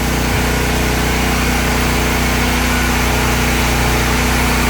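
Honda generator engine running steadily at a constant idle, a continuous loud mechanical drone with no talk.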